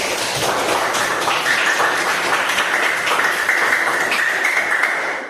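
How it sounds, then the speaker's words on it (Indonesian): A classroom group claps together for the first discussion group, a dense, even patter of many hands that stays steady for about five seconds before tapering off at the end. "kita beri aplaus untuk kelompok 1"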